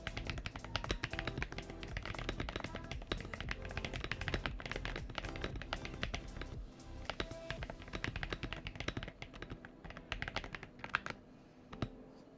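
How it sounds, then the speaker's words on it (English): Rapid, continuous keystrokes on a Redragon mechanical keyboard with mint bamboo switches, close and fairly loud. The clacking runs steadily throughout, with a few sharper louder taps near the end and no talking. "Versus the new Redragon keyboard."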